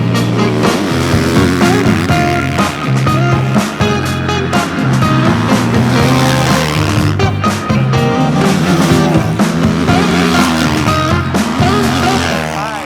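Several 2023 Husqvarna FC450 dirt bikes, running without radiators, make start runs down a straightaway: a loud, dense, continuous engine roar with rising and shifting tones that fills the whole stretch without a break.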